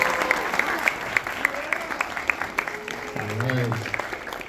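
An audience at a film premiere screening claps in scattered, distinct hand claps. A speaker's voice cuts in toward the end over the fading applause.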